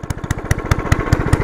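A motorized beer crate vehicle with a 270cc engine idling close by, a fast, even, loud chugging pulse with rattly mechanical clatter, no talk.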